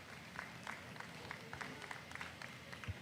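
Crowd applause for exhibitors at a dairy heifer show, scattered claps at low level sounding somewhat distant, with no speech on top.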